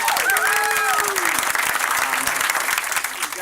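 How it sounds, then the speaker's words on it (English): An improv comedy show audience applauds loudly and steadily throughout, with a brief whooping cheer near the start and dense clapping that carries on to the end. "give yourselves a round of applause for just being a killer ass"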